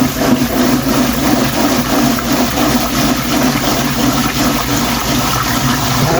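Cold tap water running steadily and pouring into a pot to rinse washed salmon and white rice with pink salt, a continuous, loud splashing rush with no talk over it.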